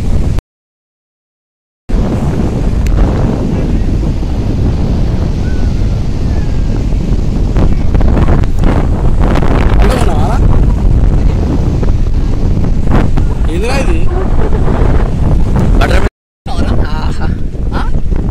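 Strong wind roars on a beach in Goa, buffeting the microphone with a loud, continuous rumble, broken by a couple of brief dropouts, while someone talks over it.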